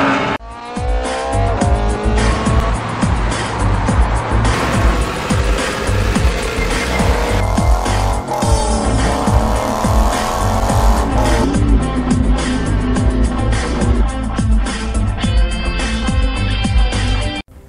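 Race cars, including a McLaren F1 and P1, lap the Montlhéry speed ring, engines screaming and revving hard through gear changes as they pass close and loud, overlapping one another with tire noise and no talk.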